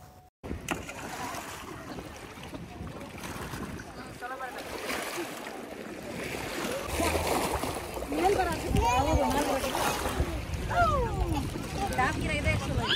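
People splashing and playing in the water at a backwater, with sloshing splashes that grow busier toward the end, mixed with lively voices talking and calling out nearby.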